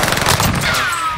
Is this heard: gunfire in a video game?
yes